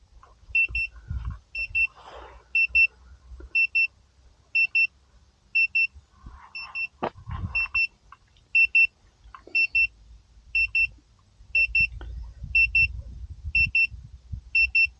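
A phone running the app for a Potensic Atom SE drone gives repeated alert beeps, paired high electronic chirps at a steady rhythm throughout, with a couple of brief louder bumps and low rumble beneath.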